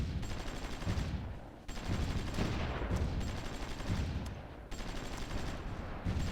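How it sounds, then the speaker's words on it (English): Artillery gunfire in the strategy game Supreme Ruler Ultimate, dense rumbling bursts of booming shots in a sustained barrage with a few brief gaps, loud and heavy in the low end. "We've got the artillery down there, so they have that shooting at us right now."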